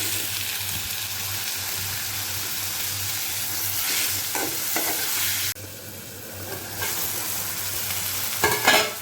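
Onions frying in a pan with ginger garlic paste produce a loud, steady sizzle. It dips suddenly midway when more goes in, then picks up again with scraping stirs and a burst of crackle at the close. Nobody speaks.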